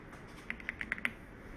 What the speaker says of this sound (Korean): 키보드에서 컨트롤 키를 누르고 있는 상태에서 엔터를 톡 하고 눌러줄게요